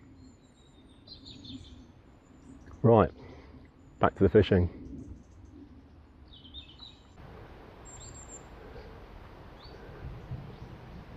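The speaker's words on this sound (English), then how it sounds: "there goes a blue tit in the flock now" Small birds in a mixed flock of blue tits and long-tailed tits on a riverbank, giving faint high calls in scattered bursts, with a few sharper nearby sounds, while someone speaks briefly.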